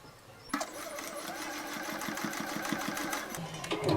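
A sewing machine backstitches across the handle of a fabric bottle carrier, a rapid steady mechanical chatter of the needle running for about three seconds after a click start, close and moderately quiet.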